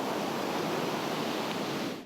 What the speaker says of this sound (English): The crashing waves